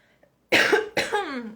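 Two close, harsh allergy coughs in quick succession after a brief moment of near silence.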